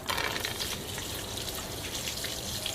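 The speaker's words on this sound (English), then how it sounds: "Put the straw into the bottle and tie it like this. Let's see how long it takes to empty the bottle." Water gushes steadily out of a plastic bottle through a straw tied into its neck, a continuous splashing pour that stays loud and even for about three seconds with no talking.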